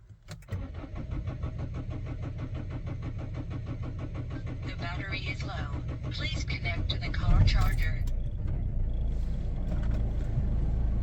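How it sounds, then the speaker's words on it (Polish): A Citroen Berlingo diesel engine, slightly air-locked, cranks briefly and catches, then settles into a steady, loud, clattering idle that grows a little rougher midway. "Teraz zobaczmy, jak ładnie odpali, czy będzie słychać rozrząd, czy się zapowietrzył."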